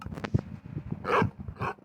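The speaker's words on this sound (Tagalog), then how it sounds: "Tita Sophie, ang cute ng aso" A few quick, small dog barks and yips from a dog in Minecraft, slightly synthetic and mixed with soft background clatter, close and moderately loud.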